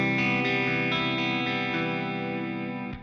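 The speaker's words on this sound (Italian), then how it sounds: "Se vado in giù e quindi riprendo il pickup al ponte completo, non splittato, invece suona così." Electric guitar played through the full, unsplit bridge humbucker, a bright sustained strummed chord with rich harmonics ringing out alone and decaying slowly over a few seconds.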